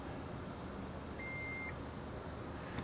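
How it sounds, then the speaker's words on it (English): Power tailgate of a 2026 GMC Acadia gives a single short electronic beep while its height is being set, faint against steady background hum. "we hold down this button and listen for the beeps."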